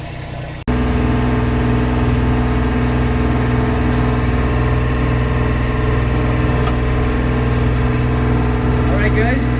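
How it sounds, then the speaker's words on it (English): A boat's inboard engine runs steadily at 2400 RPM beneath a soundproofing engine cover, giving a loud, constant droning hum with strong low tones that starts abruptly and holds without change. "we got the engine running at 2400 RPM"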